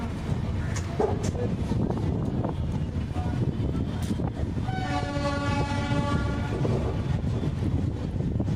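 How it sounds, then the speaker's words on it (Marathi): A train departing Parbhani Junction rumbles steadily, then a long horn sounds over the clatter, loud and close, with faint voices in the background. "गाडी आता निघाली"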